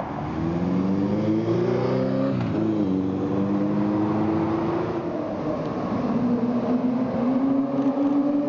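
On a Tokyo street, a McLaren car accelerates past with a loud rising engine note that shifts as gears change, sounding close by over steady traffic noise.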